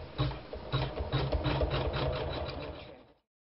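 Embroidery sewing machine stitching an in-the-hoop quilt block, a close, quick rhythmic chatter of stitches lasting about three seconds before stopping.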